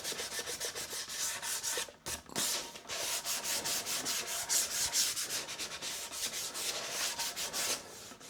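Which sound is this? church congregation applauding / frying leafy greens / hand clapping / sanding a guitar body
sanding a guitar body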